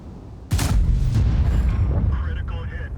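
A single loud cannon shot from the JPZ E100 tank destroyer in a video game, an abrupt close blast followed by a long rumbling decay, with a brief spoken exclamation near the end.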